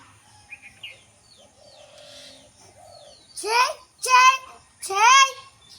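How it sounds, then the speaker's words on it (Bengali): Birds, including crows, call in three loud, rising bursts near the end as they fly in from above on a morning outdoors, after quieter earlier sounds. "আরো পাখিগুলো আসছে উপর থেকে উড়ে উড়ে"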